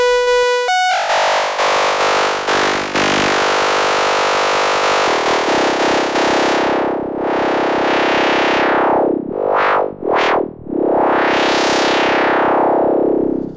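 Harsh, distorted FM synthesizer tones from a Behringer K-2 MKII, with buzzing metallic harmonics, sweeping up and down in loud, grinding glides that cut in and out.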